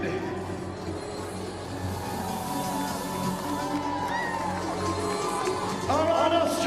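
A crowd at a HYROX elite fitness race in Brisbane cheers, whoops and shouts continuously, and the noise swells near the end while an announcer talks over it.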